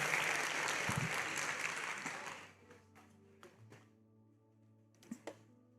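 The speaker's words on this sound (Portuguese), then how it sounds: "Quantos podem louvar com as suas palmas por isso?" A church congregation applauding together in a sustained wash of clapping that fades out after a couple of seconds, followed by quiet room tone and a few scattered soft knocks.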